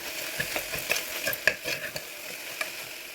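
Potato, capsicum and tomato with salt, coriander powder and garam masala are stirred and fried in a pan for veg rice. A soft sizzle runs under repeated spatula scrapes and light clicks against the pan.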